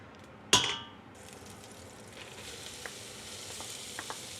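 Butter and vegetables go into a hot pan for lasagna with a sharp burst of sizzle, which fades to a soft, steady frying hiss broken by occasional faint clicks.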